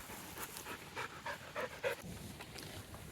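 A dog pants in short, quick, breathy bursts close by, a soft and fairly faint rhythmic huffing that fades after a couple of seconds into quiet background.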